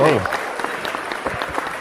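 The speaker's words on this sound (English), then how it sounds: "he gets applause" A studio audience claps for comics creator Matthew Rosenberg as he is introduced on a comic shop talk show; a brief voice opens before a steady round of applause that continues to the end.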